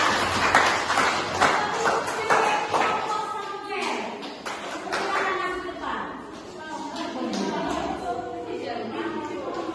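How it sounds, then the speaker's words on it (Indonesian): A class group claps together in a classroom, a dense round of hand claps that softens midway, mixed with speech and children's voices. "beri tepuk tangan dulu untuk kelompok kita"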